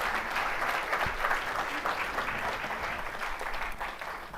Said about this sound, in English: another round of applause for our various vice presidents